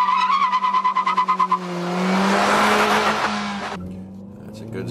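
A car driven hard around the Top Gear test track: a pulsing engine note, then a loud tire squeal and skid that fades as the car moves off, heard close and with no speech.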